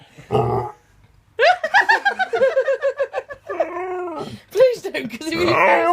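A husky lets out a deep guttural burp-like growl, then a long run of whiny, wavering vocal moans and grumbles, close and loud, with a person's voice reacting near the end.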